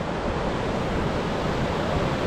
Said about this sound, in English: we made it to Lower Yosemite Falls